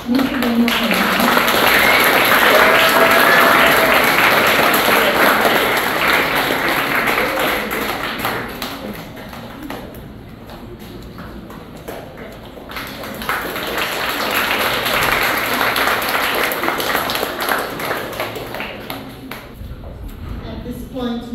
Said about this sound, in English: Please give a round of applause for former Commissioner of Police, Mr. Reynell Frazer.